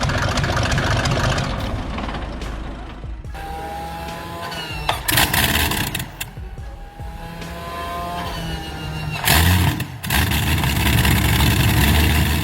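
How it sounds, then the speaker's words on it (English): Air-cooled Deutz V8 diesel truck engine from 1970s European trucking cranking and firing up, settling into a loud, rough idle with bursts of revving and a few sharp clatters. "After a decade of stillness, the Magus Deutsitz V8 awakens with purpose."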